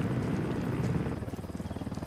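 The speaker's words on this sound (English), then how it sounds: "Helicopter inbound." A helicopter closes in during a Ghost Recon Wildlands gunfight, its rotor thumping rhythmically and growing clearer over the final second beneath a low rumbling din.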